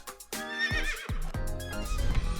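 A horse whinnies loudly and close by in quick, wavering bursts with sliding pitch, followed by other tonal sounds.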